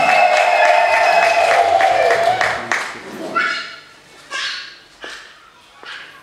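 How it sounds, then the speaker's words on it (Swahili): At a church wedding service, high trilling ululation rings out loud and close over crowd noise for a couple of seconds, then fades into scattered bursts of clapping and cheering. "Vigeregere na makofi kwake tafadhali."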